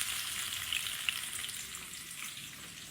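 Steady, continuous sizzling of food frying in hot oil, an even crackling hiss throughout with no voices.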